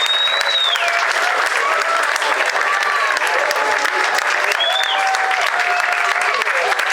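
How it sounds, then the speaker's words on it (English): Audience at a community storytelling event applauds for a storyteller, a dense, loud, continuous wash of clapping with a few cheers and whoops rising over it throughout. "round of applause for Alexis"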